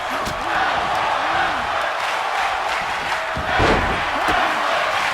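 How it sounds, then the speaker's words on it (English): A wrestling crowd roars continuously at a live match, with a dense, loud wash of cheering and a few thuds and slaps from the ring breaking through. "And the crowd absolutely loving this."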